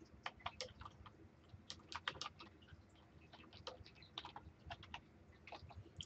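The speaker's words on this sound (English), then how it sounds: "I'm going to type that." Quick bursts of typing on a computer keyboard fill a quiet fish room, the key clicks arriving in irregular clusters with brief pauses, close and fairly soft, with no talking.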